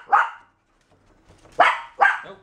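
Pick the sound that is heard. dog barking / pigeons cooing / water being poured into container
dog barking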